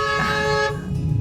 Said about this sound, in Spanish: Nos reíamos porque ahí empezó a tocar bocina.